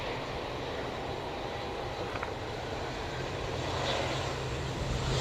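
An airliner takes off at Manchester Airport, a steady broad jet roar heard from a distance that swells slightly toward the end, with no talking.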